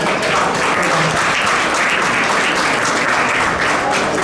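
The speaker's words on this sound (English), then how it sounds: "Please give them a round of applause." Sustained, dense applause from a gala audience honoring speakers and awardees at an awards dinner, loud and steady throughout without a break.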